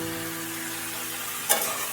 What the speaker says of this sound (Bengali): লবণ দিয়ে আবার একটু নাড়তে হবে